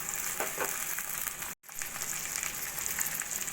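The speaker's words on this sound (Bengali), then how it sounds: "পেঁয়াজ হালকা সোনালি করে ভেজে নিয়ে দিয়ে দেবো আমি এখানে দুটো বড় সাইজের টমেটো ছোট ছোট করে কেটে নেওয়া" Two large tomatoes, chopped small, are added to onions frying to light gold for chicken keema, giving a dense, continuous sizzle with one brief break in the middle.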